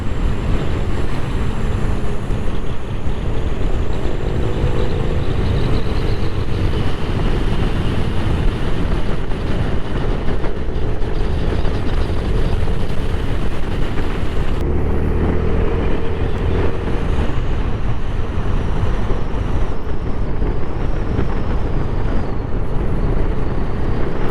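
Vespa GTS 500 scooter pulling hard from about 80 km/h on an open road, a loud continuous engine and road roar mixed with heavy wind buffeting, steady throughout with a brief shift in tone midway.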